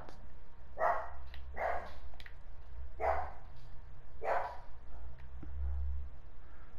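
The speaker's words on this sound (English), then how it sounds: "Oh, there goes my dog then." Pet dog in a room barking four times in evenly spaced, fairly loud sharp barks, over a steady low hum and soft background noise.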